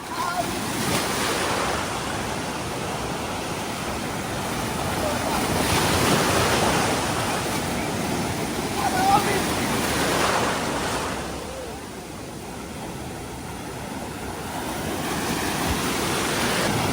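Sea waves breaking and rushing up a beach, a continuous loud roar that rises and eases in slow surges, with heavy wind noise on the microphone.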